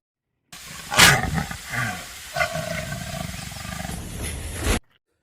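A leopard lets out a loud, harsh roar followed by several rasping growls, fairly close, with no talking.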